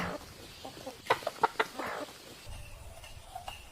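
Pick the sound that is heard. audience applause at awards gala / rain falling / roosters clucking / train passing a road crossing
roosters clucking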